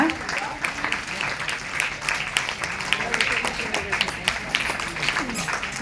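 An audience applauds at a Bharatanatyam debut stage performance in an auditorium. The warm, dense patter of many hands fills the hall steadily while a voice speaks over it.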